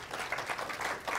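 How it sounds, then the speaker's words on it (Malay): Audience at a Malaysian podcast event for Gaza applauding a guest, a short burst of steady, moderately close clapping with no voices. "boleh tak kita berikan tepukan kepada Haji Zul"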